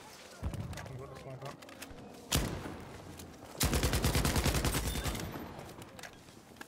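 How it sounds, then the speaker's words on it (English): Sniper rifle fire from an LS/26 in Battlefield V, with sharp cracking shots and a burst of rapid gunfire among other battlefield noise, close and loud, with voices talking over parts of it. "Yeah, the crack of a sniper."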